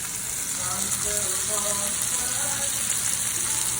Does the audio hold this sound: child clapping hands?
no